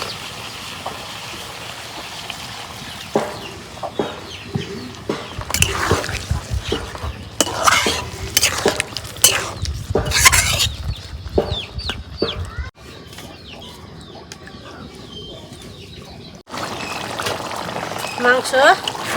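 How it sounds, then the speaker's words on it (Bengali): Water is poured into chicken curry cooking in a pan, setting off bursts of loud sizzling and hissing. Hens cluck nearby and a voice talks throughout. "মাংস কষাবে নাকি অল্প পানি দিয়ে দিই।"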